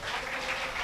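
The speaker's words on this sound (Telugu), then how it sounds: "గట్టిగా చప్పట్లు కొడదా" Brief burst of congregation applause during a church sermon, steady close clapping that fills the short moment.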